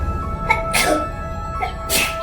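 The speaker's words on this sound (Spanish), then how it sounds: "el muchacho estornudó 7 veces y abrió los ojos" A boy sneezes several times in quick succession in a dramatized scene from the Bible story of Elisha reviving a child, with four sharp bursts standing out over a steady room background.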